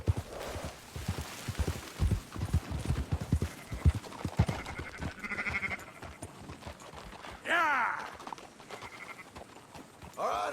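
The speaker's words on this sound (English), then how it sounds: "Marston, why don't you leave the sheep to me?" Steady clip-clop of horse hooves with several sheep bleating nearby in the video game Red Dead Redemption 2, the hoofbeats rhythmic and close, the bleats loud and drawn out toward the end.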